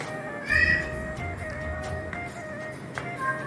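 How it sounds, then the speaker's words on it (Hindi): Kittens meowing in a hot, humid home setting, with one clear high mew early on and softer faint mews later, over a steady background hum. "हमारे यानी कि बिल्ली के बच्चे।"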